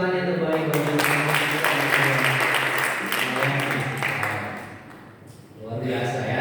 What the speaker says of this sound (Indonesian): sekali lagi berikan tepuk tangan yang terbaik bagi